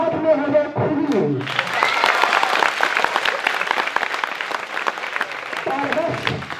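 Audience bursting into loud, dense applause after a man recites a rhyme at a school gathering, the clapping sustained for several seconds before a voice returns at the end.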